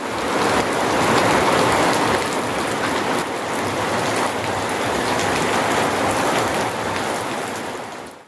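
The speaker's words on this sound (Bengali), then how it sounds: "অবশেষে বৃষ্টি আসলো" Steady, loud rain pours down in a continuous dense hiss, close by and unbroken, fading abruptly at the very end.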